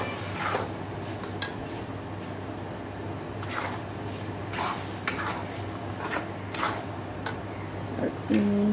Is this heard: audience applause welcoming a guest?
no